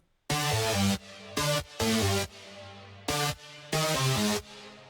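A synth keyboard lead from a track plays short chordal phrases alone, bright sustained notes in clipped bursts with brief silences between them.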